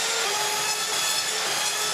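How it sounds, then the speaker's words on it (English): A saw cuts through wooden cladding for a van conversion with a continuous harsh, high rasping that holds steady and loud throughout, with no voices. "So let's get some cutting going."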